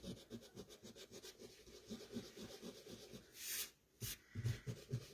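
Sand eraser rubbed back and forth on card stock to lift stray ink, rapid rhythmic scrubbing strokes close up, a short gap and then more scrubbing, quiet overall.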